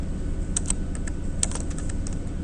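Quick, light keystrokes tap on a computer keyboard while entering a spreadsheet formula in Excel, a short irregular burst of clicks close to the microphone over a low background hum.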